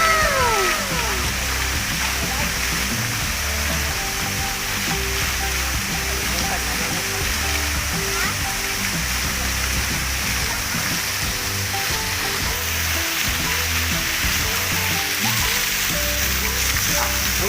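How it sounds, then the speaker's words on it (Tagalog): Steady rushing water flows continuously from a spring near a waterfall, a broad unbroken wash of sound. "At saka may bukal."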